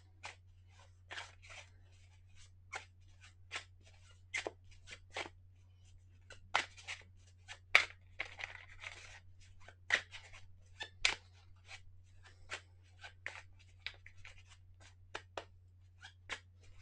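A Night Circus tarot card deck being shuffled by hand, with a string of soft, crisp card snaps and riffles in uneven bursts over a faint low hum, close and quiet, no talk.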